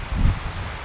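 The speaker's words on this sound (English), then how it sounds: "It's really windy in here." Strong wind gusting through trees at a woodland camp, a brief, loud, low rumbling buffet that swells and fades in under a second.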